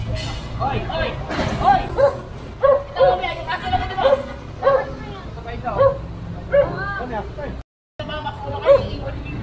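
Dogs barking on a city street during a clearing operation, with repeated sharp barks spaced through the stretch under nearby chatter and voices of people talking.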